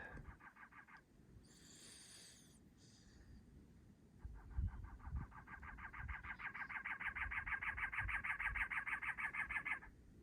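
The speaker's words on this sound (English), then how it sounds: "Bird." Chickens call and cluck near a rural campsite in the early morning, with a repeated harmonic rooster-like call building toward the end over low background rustle and a brief higher squawk.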